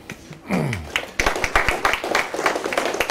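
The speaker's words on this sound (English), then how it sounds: "You don't have to clap yet, though." Audience applauding at a law lecture event, a scattered crowd clapping briefly after a voice speaks at the start, irregular claps close and moderately loud.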